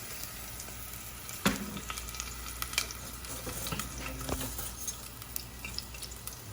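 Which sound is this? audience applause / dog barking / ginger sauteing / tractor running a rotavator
ginger sauteing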